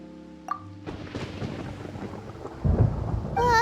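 Rolling thunder with steady rain in the video game Genshin Impact, a soft chime first, then a rumble building to a loud, close crack near the end, with rainfall continuing underneath.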